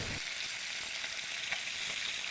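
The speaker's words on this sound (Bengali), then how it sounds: "আম্মু এখন ইলিশ মাছ রান্না করতেছে" Hilsa fish frying in a pan at home, a steady broadband sizzle with faint crackles running continuously at moderate level, with no voices.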